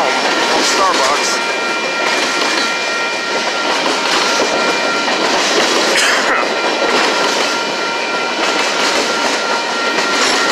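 A BNSF freight train rumbles past close by in Sacramento, California, wheels clattering continuously on the rails with a loud, steady roar and occasional squeals.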